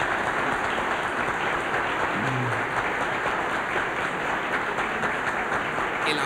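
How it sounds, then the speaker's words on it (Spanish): Ibero-American presidents applaud in a hall, producing a steady, dense clapping that holds at an even level from start to finish. "El aplauso de los presidentes iberoamericanos a las palabras de Vargas Llosa"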